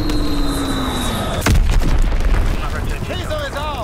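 Bombs drop and explode in the Call of Duty WWII video game, a loud booming blast rolling over a constant roar of gameplay noise, with whistling tones and a voice talking through it.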